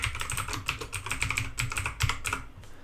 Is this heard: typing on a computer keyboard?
yes